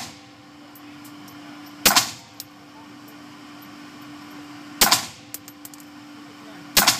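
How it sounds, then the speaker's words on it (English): .22 pistol shots fired at a target 10 metres down an indoor range crack out three times, spaced a few seconds apart, sharp and close over a steady background hum, with faint small clicks between shots. "So she's shooting down range."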